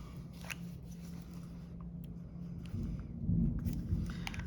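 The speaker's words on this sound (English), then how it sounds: "Ooh, I heard that thunder again." A low, distant rumble of thunder rolls in faintly under a quiet indoor hum, swelling for a second or two before fading.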